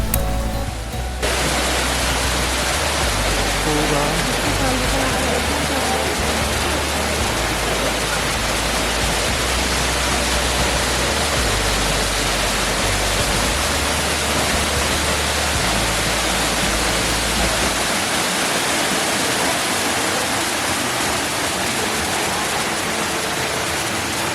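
Bhagsunag Waterfall near McLeodganj in Himachal Pradesh roars as a steady, dense rush of falling water that fills the whole scene without a break, loud and close, with no voices over it.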